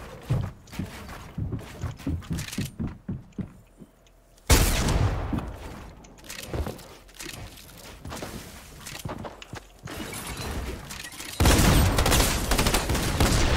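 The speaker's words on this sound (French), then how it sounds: "Il fait un bruit le pompe là." Pump shotgun blasts in a video game, repeated heavy booms at irregular intervals amid footsteps and game noise, loud and close with no speech.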